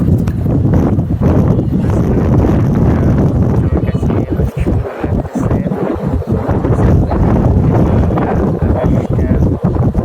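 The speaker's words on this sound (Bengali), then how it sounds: "অনেক সুন্দর বাতাস, নিরিবিলি" Strong wind sweeps across a rooftop planted with henna and other shrubs, buffeting the microphone in a constant low roar that drowns a person speaking.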